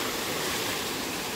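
Chimanapalli waterfall pours in a dense, constant roar of rushing water, loud and unbroken throughout.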